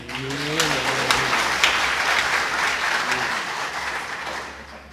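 A crowd at a political speech claps in sustained applause, a dense steady patter of many hands that holds for several seconds at fairly loud level.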